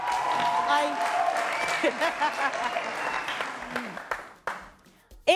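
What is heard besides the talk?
studio audience applause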